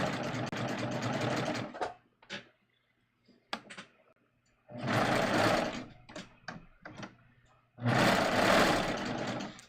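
A sewing machine stitches a facing edge on a garment in three loud, close bursts of rapid mechanical whirring, separated by pauses filled with small clicks and taps from the presser foot and fabric handling.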